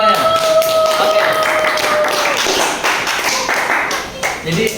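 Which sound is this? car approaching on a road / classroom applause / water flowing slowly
classroom applause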